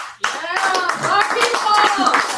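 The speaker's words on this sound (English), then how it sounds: "let's get a round of applause." Applause at a startup night event, scattered clapping starting abruptly after a brief pause and continuing steadily with voices and chatter mixed in.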